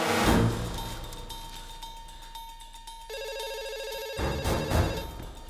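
An office telephone rings loudly in a room, electronic trilling bursts repeating in a steady pattern over background sound, with no one speaking.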